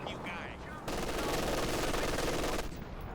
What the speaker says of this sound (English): Good angle on that MG42.